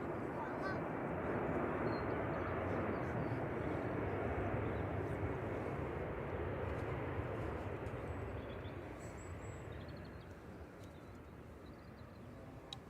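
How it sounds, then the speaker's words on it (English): An Airbus A320-200 airliner arriving from Vienna at Manchester Airport roars as a loud, broad jet rumble that slowly fades over several seconds, heard from a spotting position outdoors. "Coming in from Vienna, this is A320-200"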